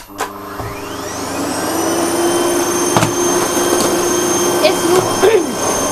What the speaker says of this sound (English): It's the loudest low speed vacuum I've heard.